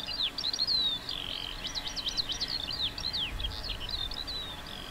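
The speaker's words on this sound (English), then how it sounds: "Birds." Several small birds chirp and twitter in quick, bright overlapping calls, fairly close and clear over a quiet background, with no voices.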